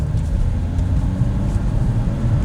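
A Renault Laguna III engine pulls as the throttle is pressed, a loud, steady low rumble heard close from inside the car with a slight swelling drone and no talk.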